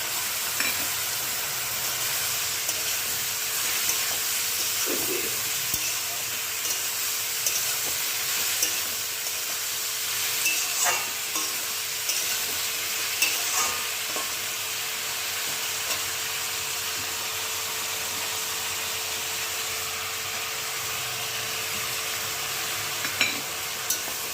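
Turmeric-laced spice paste, soaked in water beforehand, sizzles steadily in a pan for a sustained stretch, with occasional soft stirring scrapes over a continuous frying hiss.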